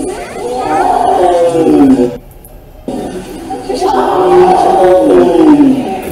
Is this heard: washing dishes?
no